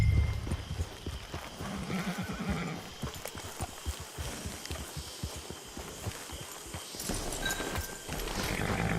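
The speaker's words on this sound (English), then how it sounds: "Get your horse." In the Red Dead Online video game a horse clip-clops at a steady walk near a camp and gives a whinny, the rhythmic hoofbeats running clearly under a light ambient backdrop.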